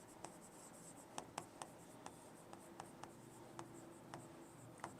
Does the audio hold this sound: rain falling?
no